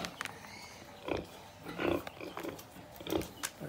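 Young piglets around twelve days old feed on pig feed, giving soft grunts and snuffling noises in a few short bursts over a steady low background.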